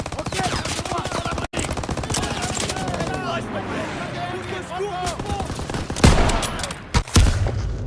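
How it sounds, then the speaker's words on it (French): Dense, sustained gunfire in a World War II Call of Duty firefight, rapid automatic bursts layered with single shots and loud close impacts toward the end, with shouting voices mixed underneath. "il tire dans le véhicule où je suis"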